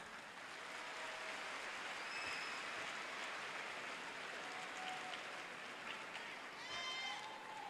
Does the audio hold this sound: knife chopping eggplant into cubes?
no